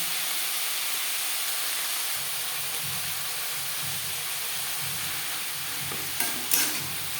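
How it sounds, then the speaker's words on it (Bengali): Ginger and green chilli paste stirred into spices frying in oil for Bengali muri ghonto, giving a constant close hiss and sizzle with soft stirring scrapes and a couple of brief clinks near the end. "মশলার সাথে আদা ও কাঁচা লঙ্কা বাটা বেশ ভালো করে মিক্স করে দেবো"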